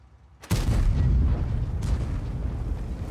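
Tank cannon firing in World of Tanks, a single loud booming shot near the start followed by a long rumbling roar and a second fainter blast mid-way, no talking.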